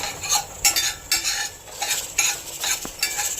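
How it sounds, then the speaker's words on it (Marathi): Whole spices dry-roasted in a pan over a low flame, stirred with a metal utensil in steady repeated scraping strokes, close and fairly loud, with a soft crackle underneath and no voices. "मस्त सुगंध येईपर्यंत आपल्याला हे भाजायचं आहे अगदी मंद गॅसवर"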